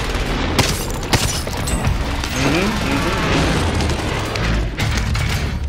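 Gunfire on Rebirth Island in Call of Duty: dense, continuous bursts of shots and booms with sharp cracks, while a player talks over the chaotic firefight.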